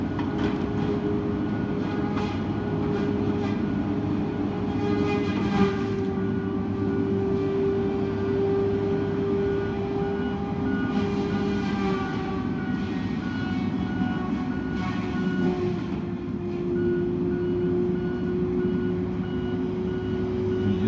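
A feller buncher mows down brush while cutting a path through the bush along a Hydro One line edge on a farm; a steady heavy diesel engine drone with tonal whine continues at a constant level throughout, with no talk.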